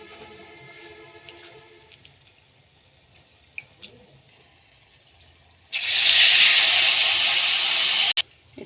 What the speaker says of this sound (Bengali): তেঁতুলের জলটা ঢেলে দিয়েছি।